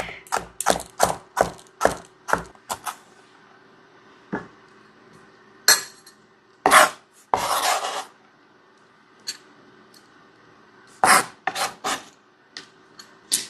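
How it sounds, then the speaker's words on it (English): A knife chops and minces garlic on a cutting board for Korean-style spicy cucumbers, with bursts of sharp, close, rapid taps separated by pauses of quiet. "We are going to mince the garlic."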